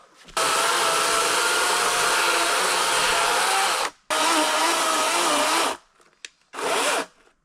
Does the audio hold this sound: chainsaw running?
yes